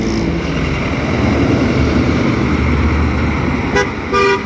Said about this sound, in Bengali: এই যে দেখেন এটা হচ্ছে ঢাকা সিলেট হাইওয়ে